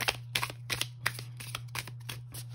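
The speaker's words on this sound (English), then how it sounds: "It shuffles very nicely." A tarot deck of heavy, thick cardstock being riffle-shuffled close by, with several quick bursts of flicking card edges separated by short pauses, over a low steady hum.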